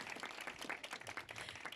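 An audience at a festival talk with filmmakers claps steadily, a dense, even patter of many hands throughout with no voices over it.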